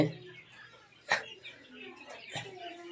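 Quail in a small domestic flock give soft, scattered chirps and calls, with one or two sharper notes standing out over a low, steady background.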